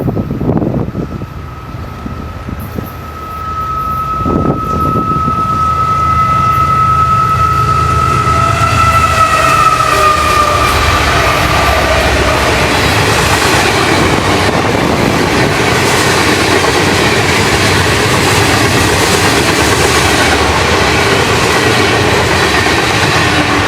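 Florida East Coast Railway freight train 101 passes, with a Champion 40 locomotive trailing third out. A long horn blast sounds before the train rolls by loudly and steadily, its wheels rumbling and clattering for the rest of the pass, with no talk.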